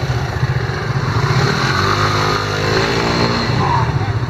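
Motorcycle engine revving close by on a trip in Turkey, a loud mid-pitched rumble with rising and falling pulses held steadily throughout, with voices faintly under the engine.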